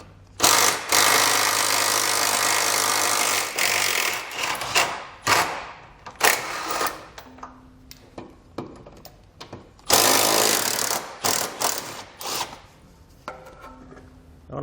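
A socket wrench with an 18mm socket works bolts loose from the brackets of a 2014 Ford Explorer, loud ratcheting and clanking bursts repeating with pauses between, close by and with no talk.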